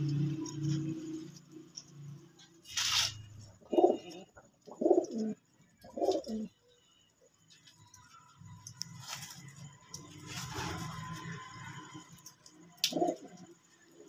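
Teddy and Rampuri pigeons coo in a loft, several soft rhythmic bursts of cooing close by with brief chirps and rustling between calls.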